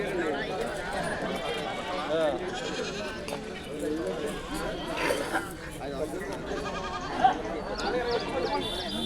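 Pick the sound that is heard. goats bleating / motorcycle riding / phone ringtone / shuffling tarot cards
goats bleating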